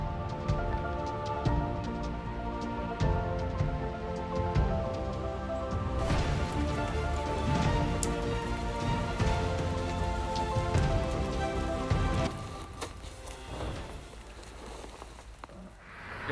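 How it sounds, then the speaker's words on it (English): Steady rain falls outdoors at a roadside stop during a motorcycle trip, with a dense close patter on surfaces and scattered louder drips. It softens slightly near the end. "It's raining"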